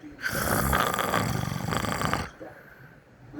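A 12-year-old boy snores loudly with his mouth open, one long rasping inhalation near and prominent, then quieter breathing as it fades.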